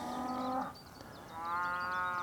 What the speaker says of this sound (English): That's one of my big problems around here, is the cows.